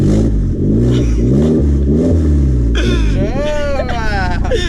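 A modified Ford Focus engine revs loudly nearby, a deep rising and falling roar with possible exhaust crackles, followed by higher-pitched revving while someone talks close by.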